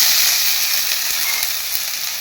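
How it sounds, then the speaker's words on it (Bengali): Dried beef frying in oil in a pan, a loud continuous sizzle and crackle with faint stirring, steady and close throughout with no voices. "তেল দিয়ে এগুলো ভালোভাবে ভাজতে হবে।"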